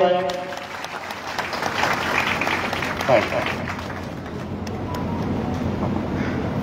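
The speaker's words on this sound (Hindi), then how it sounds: "ताली बजाओ भाई" Crowd clapping at a live political rally for a cabinet minister, a sustained broad patter of many hands mixed with loud crowd noise and a speaker's voice over the top.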